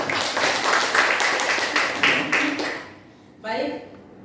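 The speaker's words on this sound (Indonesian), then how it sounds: "Tepuk tangan untuk kita semua." A crowd clapping together for a few seconds at an afternoon gathering, a dense patter of hands that fades out, followed by a brief stretch of voices.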